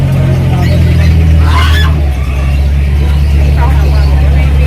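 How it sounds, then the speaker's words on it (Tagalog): Geese honk in short bursts at a pet market amid loud, rumbling engine noise and some voices nearby. "may gansa po ah, gansa gansa oh"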